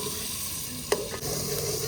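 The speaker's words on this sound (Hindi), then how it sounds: "घी गर्म हो गया, मिसाले इसमें ऐड कर दिया है।" Spices fry in hot ghee with a steady, close sizzle and crackle, broken by a couple of sharp clicks of stirring against the pan, and no voices.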